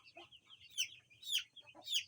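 Chickens on a poultry farm during vaccination cluck and call in four short, fairly loud bursts spaced about half a second apart, with no talk.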